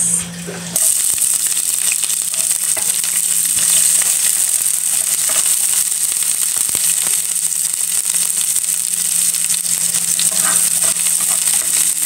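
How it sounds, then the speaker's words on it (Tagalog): Onions hit a hot pan for a bitter-melon sauté, and a loud, steady sizzle fills the whole stretch after a brief quieter start, with faint stirring and scraping underneath and no voices. "mainit na ang ating kawali. Mag-isa na po tayo ng ating sibuyas."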